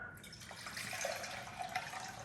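Water runs steadily into a cooking pot for coffee, a continuous close splashing stream lasting a couple of seconds, with no talk.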